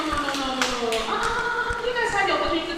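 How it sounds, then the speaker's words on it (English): Scattered hand claps and taps ring out at a radio station event for the Sparkling FM station manager, irregular and moderately close, mixed with steady voices and a child's speech running underneath. "a round of applause for the station manager of Sparkling FM."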